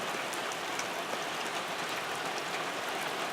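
Steady rain falls on a dark Sunday evening outdoors, a dense even hiss of drops at constant loudness with no voices.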